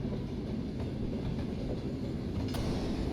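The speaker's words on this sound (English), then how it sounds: "Oh, this sounds very mechanical. Maybe there are moving components. It sounds like a train." Mechanical, train-like rumble in the desert exploration game Wonders Between Dunes: a steady, dense low roar with faint rhythmic clatter and a brief sharp click near the end, continuous and fairly loud throughout.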